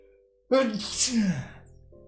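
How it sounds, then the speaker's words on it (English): A single sharp sneeze bursts out suddenly after a brief quiet moment, loud and close, trailing off into a breathy exhale. "I'll sneeze now"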